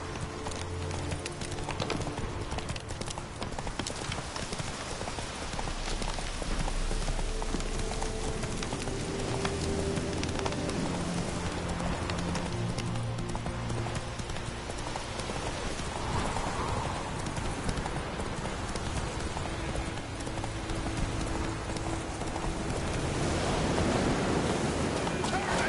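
A horse gallops in The Witcher 3, with steady, loud clip-clop hoofbeats running throughout under a constant rushing ambience.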